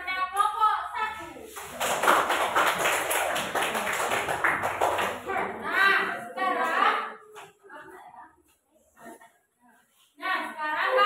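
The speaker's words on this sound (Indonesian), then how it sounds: "Beri tepuk tangan kepada kelompok 1." A classroom of schoolchildren applauds for a student group during a lesson, a dense burst of clapping from the room lasting several seconds, followed by a teacher's voice and scattered chatter.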